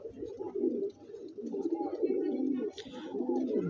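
Pigeons of an Andhra breed coo in low, throaty rolling calls that run almost continuously and close by, with a brief dip near one second and a faint higher rustle toward the end.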